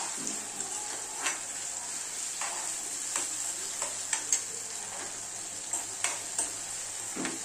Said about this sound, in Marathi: तर हे छान असं तेलामध्ये परतून घ्यायचं आपल्याला.